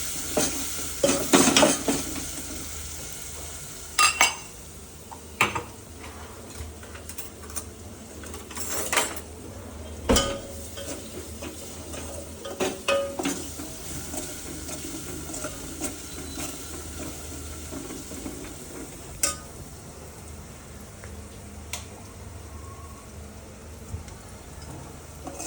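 Chilli and garlic sizzling in hot oil for a kadhi tempering in a home kitchen, a steady close frying hiss with sharp spits and clinks of stirring, no voices.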